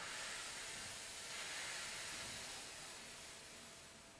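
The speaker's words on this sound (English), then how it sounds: "Exhale, back out through pursed lips." A long, slow exhale through pursed lips during a gentle postnatal breathing exercise, a close, steady breathy hiss that gradually fades toward the end.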